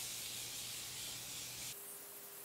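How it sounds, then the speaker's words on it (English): Morphe Continuous Setting Spray is misted onto a face, giving a steady, close breathy hiss that runs unbroken for most of the moment before shifting tone near the end. "I'm gonna set my face with the Morphe Continuous Setting Spray."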